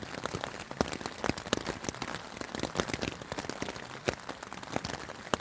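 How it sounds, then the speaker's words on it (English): Rain patters on a tent in a dense, steady crackle of drops, loud and close, with no break throughout. "I'm enjoying the rain somehow."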